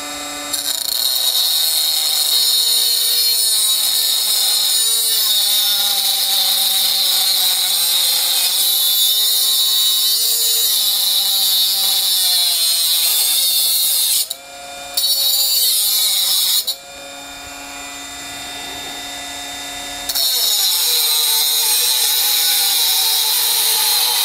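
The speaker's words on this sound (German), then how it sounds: "Ich habe jetzt mal ein bisschen doller gedrückt, um die Motorleistung ein bisschen zu testen." A Bosch 12V cordless angle grinder whines loudly and steadily as it is pressed hard into the workpiece, its pitch dipping under load, with a brief break and a lighter free-running stretch before it bites again.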